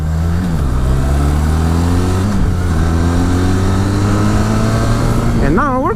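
A Benelli TRK 502 motorcycle engine drones steadily while riding up an unpacked dirt path, its pitch holding and stepping between gears, then rising sharply in a quick rev near the end, with a voice talking over it throughout.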